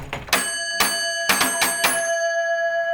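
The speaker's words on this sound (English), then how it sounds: "let's ring the doorbell." A bell-like doorbell chimes several times in quick, uneven strikes, each tone ringing on and fading out with a lingering hum.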